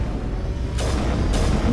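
Sniper rifle firing an explosive round in the video game Mass Effect: two sharp, bright bursts about half a second apart over a steady low rumble.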